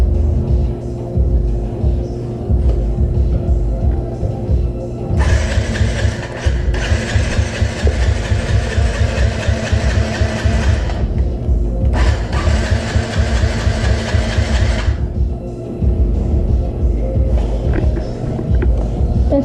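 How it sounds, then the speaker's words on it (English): The small engine on a kids' bike is cranked twice, with bursts of rough mechanical whirring up close. Each attempt lasts several seconds and is followed by a quieter pause, and the engine never settles into a clear idle. "Let's turn the key on and turn the choke on and try and start it."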